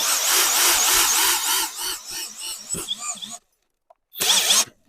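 Grosser GCD 161KBT cordless drill with a 13 mm chuck driving and tightening a screw, a loud continuous whirring motor that labors and strains, cuts off abruptly, then gives one more short burst.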